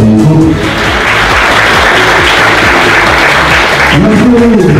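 Sustained applause from a small audience at a festival, a loud, dense patter of clapping with voices and cheering heard faintly over it.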